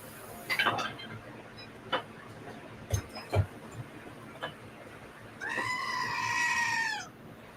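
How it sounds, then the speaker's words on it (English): A goat's bleat, likely from a phone ringtone, sounds as a single wavering, nasal call near the end, after a few scattered clicks and taps in a quiet room. "I know the sound of goats."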